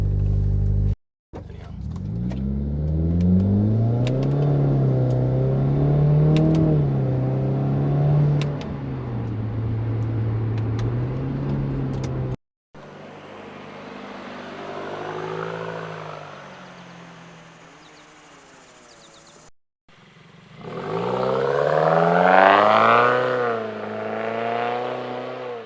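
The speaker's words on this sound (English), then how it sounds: "Idling at about 1500 RPMs right now." Exhaust fitted with a Nameless axleback, 5-inch muffler and 4-inch tips, idling near 1500 RPM after a cold start, a loud steady droning rumble heard in three segments that shift in tone from close outside to inside the car.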